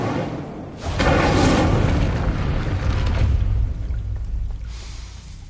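Incendio fire spell cast in Hogwarts Legacy, a sudden deep whooshing burst of flame that swells quickly and then rumbles and crackles as it fades, with a smaller flare near the end.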